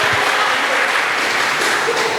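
A church congregation applauds, loud, dense clapping that holds steady and close throughout the short burst with no one speaking over it.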